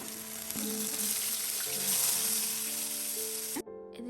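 Oil with spices and vegetables sizzles in a pan for fried rice, a close, continuous frying hiss with faint tonal hum underneath, cutting off abruptly near the end.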